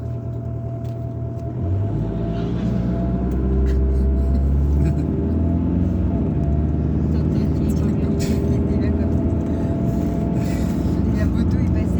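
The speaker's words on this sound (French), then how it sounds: "La moto est passée, c'était une moto ça." Motor traffic on a mountain road with hairpin bends: a motorcycle passes amid continuous loud engine rumble heard from inside a Mitsubishi Pajero, with people talking over the noise.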